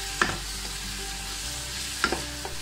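Vegetables stir-fried in a pan for spaghetti, with a steady low sizzle and two sharp utensil scrapes and clinks a couple of seconds apart, close by with no talking.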